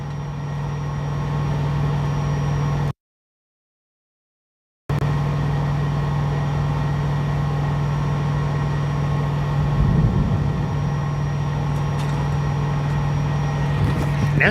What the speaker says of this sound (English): And we got a train.